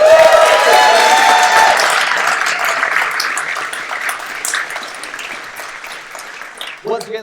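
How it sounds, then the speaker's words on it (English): Sold-out Gen Con 2023 crowd at a live Call of Cthulhu show applauding and cheering, loud and dense at first, gradually tapering over several seconds as a voice starts to speak at the end. "Round of applause."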